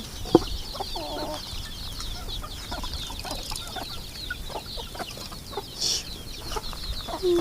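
Chickens kept in a raised cage on a rural farm cluck steadily and busily at close range, with scattered squawks over a continuous flock murmur and no talking.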